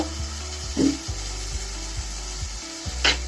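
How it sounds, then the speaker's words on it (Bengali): Onion, ginger and garlic paste frying in a pan, with a soft sizzle under rhythmic scraping strokes of a spoon stirring the mixture at close range. "রসুন আর আদা আর পেঁয়াজের মিশ্রণটা ভালো করে মিশিয়ে নেব।"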